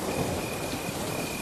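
Rain pours on a stormy night in a dense, even hiss with a low rolling rumble of thunder beneath it. The storm is heard continuously, with no voices.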